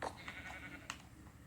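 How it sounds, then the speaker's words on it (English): Sheep bleating in a video game: a short bleat right at the start and another around the middle, moderately loud over a steady background hum. "Watch out, sheepies."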